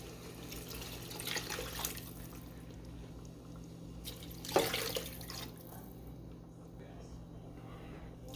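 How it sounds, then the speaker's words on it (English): Water poured from a salsa jar into a pot, splashing in a few short bursts over a steady background hum, with the loudest pour near the middle. "Now I'm adding a few jars of water, just using my salsa jar."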